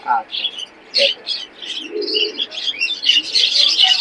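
Pigeons at a market in Khulna give short chirps and coos in quick bursts, fairly close and loud, with a faint low voice underneath.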